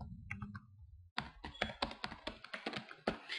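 Typing on a computer keyboard during an Excel tutorial, a quick irregular run of close, crisp key taps after a brief moment of other sound.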